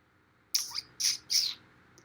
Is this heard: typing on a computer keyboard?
no